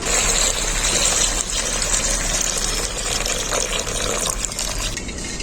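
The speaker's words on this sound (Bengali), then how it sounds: "এখন আমি এর মধ্যে দিয়ে দেবো নারকেলের দুধটা" Coconut milk poured into simmering curry masala for a prawn malai curry, a steady rushing, gushing liquid pour that runs continuously and fairly loud, with no voices.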